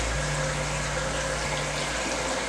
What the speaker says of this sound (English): you can get some of your water that's in the tub, the water that you took out of your tank, and just pour it into your filter